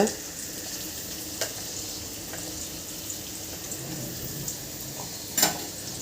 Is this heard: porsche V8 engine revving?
no